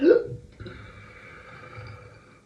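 One short, abrupt human burp opens the clip, loud and close, then fades into a quiet, low room tone with a faint steady hum.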